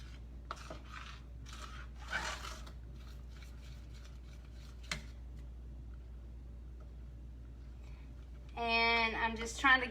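Extra crunchy peanut butter is worked into cookie dough with a spoon, giving soft scraping and rubbing strokes in uneven bursts, quiet and close, before a voice speaks near the end.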